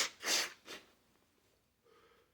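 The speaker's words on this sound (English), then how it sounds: "Don't blow your nose on camera, boy." A person blows their nose in two quick, forceful bursts, close and loud, then fades to near silence before a faint voice.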